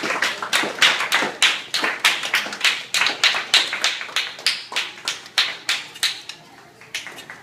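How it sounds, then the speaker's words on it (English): Sharp, rhythmic claps at a camp counselor gathering, coming in an even, rapid beat of distinct slaps that sound close and fairly loud, tapering slightly toward the end. "So you need to give them a round of applause and thank them"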